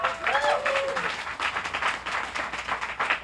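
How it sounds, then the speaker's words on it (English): A brief, moderately loud round of clapping from a press briefing audience, uneven and scattered over about three seconds, with a faint voice or whistle at the start. "Please give her a round of applause."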